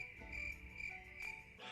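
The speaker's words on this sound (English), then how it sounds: "You can listen to the crickets if you want." Crickets chirping at night outside a bed and breakfast in Flagstaff, Arizona: a faint, continuous high trill repeating steadily, alone with no voices.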